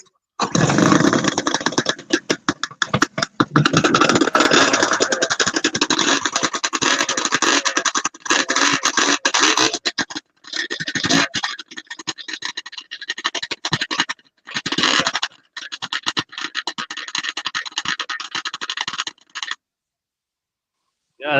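Vintage snowmobile engine starting and running close by, a loud, raspy, sputtering roar that cuts out and restarts in bursts before stopping abruptly, with brief speech at the start.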